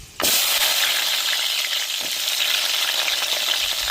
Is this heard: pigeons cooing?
no